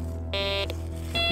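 A metal detector gives short electronic beeps over a steady low hum, one tone lasting about a third of a second and another starting as it ends.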